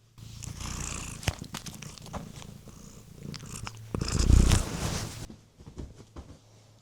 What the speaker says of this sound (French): Tu me montres comment tu ronronnes?